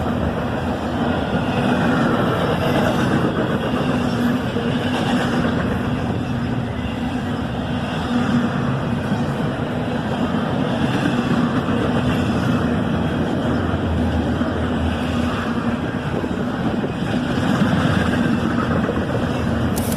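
A diesel locomotive idles steadily on a siding, holding back a train that waits to head north while an intermodal train has the right-of-way, a loud constant engine drone with a low hum running unbroken from start to end.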